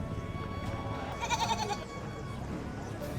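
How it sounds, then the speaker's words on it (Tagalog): At a livestock auction, a goat gives a single wavering bleat at moderate distance over a steady background of crowd murmur and low ambient noise. "Silipin din natin ang kambing"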